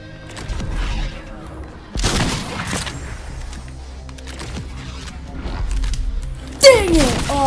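A lever-action shotgun in a video game fires in a few sharp reports with mechanical clacks and creaks, one near the start, another around two seconds and a louder blast near the end, over busy game noise.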